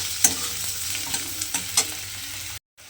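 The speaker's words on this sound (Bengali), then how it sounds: "দিয়ে পেঁয়াজটাকে প্রথমে আমি একটু ভেজে নেব" Finely chopped onion frying in hot oil, a constant sizzle with a few sharp crackles and spatters, then it cuts to silence near the end.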